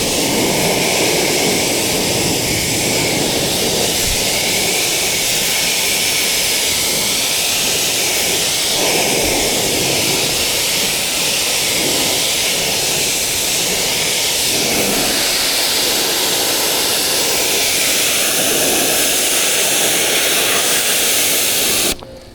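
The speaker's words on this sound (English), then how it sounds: "you really want to make sure you're rinsing very, very thoroughly and taking your time to rinse it off." Pressure-washer water rinsing a dirty car, a loud continuous broadband hiss and spray that runs steadily without break until cutting off at the very end.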